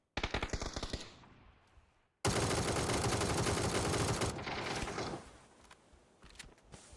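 A PUBG match erupts in loud, close gunshots: a quick string of single shots, then after a brief lull a sustained machine-gun burst lasting about two seconds, trailing into scattered mechanical clicks.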